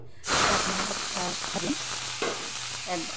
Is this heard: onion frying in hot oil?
yes